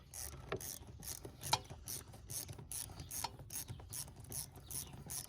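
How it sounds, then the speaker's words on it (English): A ratchet with a long 8mm socket loosens an intake hose clamp on a 2003-2007 Ford 6.0L during a cold air intake install, clicking in quick rhythmic bursts of pawl ticks, close and fairly quiet. "Let's go ahead and loosen this second clamp."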